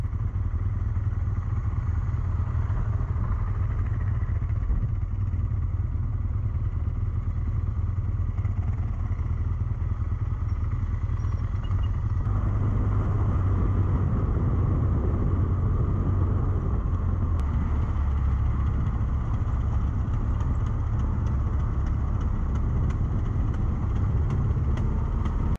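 A motorcycle heads down a steep descent in the Wakhan Valley, its engine a steady, loud, close rumble that never lets up, with light rattling over rough ground and no talking.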